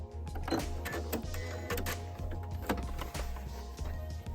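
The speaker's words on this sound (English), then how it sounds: "press the reverse stitch button, step down on the foot pedal, 3 or 4 stitches back" A sewing machine hums and clatters quietly as it runs three or four reverse stitches, with a repeating mechanical rhythm and a few clicks from the reverse button.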